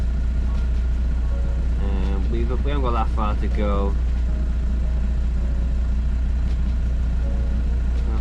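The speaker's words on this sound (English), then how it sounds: "And you can hear me, the engine is on." Sailing boat's engine running under way along the coast toward Scarborough, a loud, constant low drone and rumble beneath a man's brief speech in the middle.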